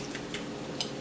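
A utensil mixing beaten eggs for banana bread, with soft scraping and two brief metallic clinks near the end, close and fairly faint.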